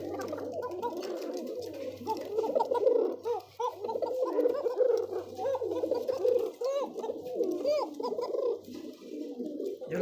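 A restless male cocker pigeon coos continuously up close in a rapid, throaty, rolling rhythm, with a low steady hum underneath.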